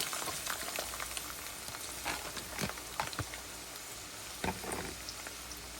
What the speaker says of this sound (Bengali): এখন এটাকে আমি হালকা বাদামি করে ভেজে নিব।